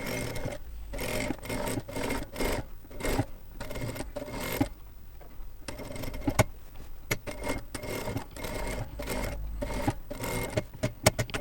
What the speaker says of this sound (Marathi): मी इथे अर्धा इंचाची शिलाई देऊन घेते.